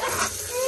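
Gujiya filling is roasted and stirred in a pan, a short stretch of steady sizzling hiss with scraping from the spoon, louder at the start and end; no voices.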